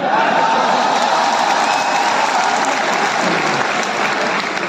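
A large audience at a live Hindi poetry recital in Surat claps loudly and steadily for the whole stretch, a dense, even wash of applause with no pause.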